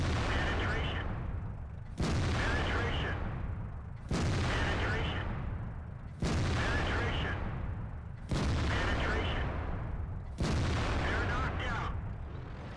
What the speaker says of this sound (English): I'll show you a clip right now of how insane this gun is.